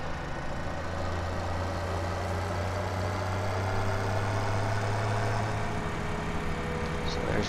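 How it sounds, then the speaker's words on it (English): A tractor engine idles steadily in the farming game Farming Simulator 17, a continuous low hum and rumble at an even, moderate level with no talking. "This tractor is what I was using for raking mostly."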